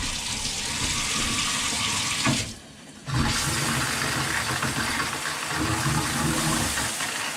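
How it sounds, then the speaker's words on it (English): Water sprays from a newly installed shower head in a steady, loud, close hiss. It breaks off briefly partway through, then streams on again. "we'll go ahead and turn our shower on just to make sure we don't have any leaks"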